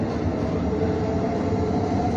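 Inside a moving Thameslink Class 700 electric train, a steady loud rumble of wheels and running noise fills the carriage with no clear breaks.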